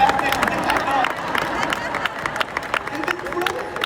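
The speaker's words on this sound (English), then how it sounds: "Clap it up for the people that are still standing" Large crowd of realtors at a packed conference applauding and cheering, a steady dense wash of clapping with scattered whoops under the general hubbub.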